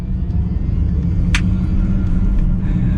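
Mercedes-Benz EQS 450+ electric car accelerating from inside the cabin, a steady low road rumble and tire hum with a faint electric whine, no engine roar, one brief higher hiss midway.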